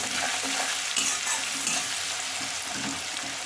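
Onions with a pinch of salt fry in a pan over a gas flame, giving a steady, close, dense sizzle and crackle with no voices.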